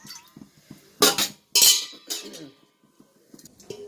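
Ginger juice sediment is poured off from a vessel: two short bursts of splashing liquid and clinking kitchenware, with a few light knocks before and after. The sounds are close and quiet.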